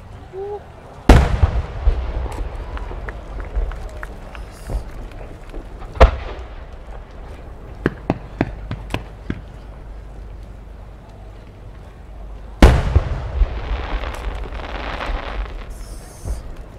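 Fireworks at the Omagari fireworks festival in Akita by Kitanihon Hanabi: two loud, deep booms open separate bursts, each followed by crackling pops and scattered sharp reports, alone and outdoors without speech.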